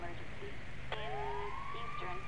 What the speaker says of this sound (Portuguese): Acionei a sirene.